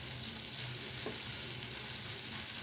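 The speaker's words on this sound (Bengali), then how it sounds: "ডিমটা এখানে অনেকটাই ভাজা ভাজা হয়ে গেছে।" Egg bhurji frying in a pan gives off a steady, dense sizzle with faint stirring scrapes, close and continuous with no voices.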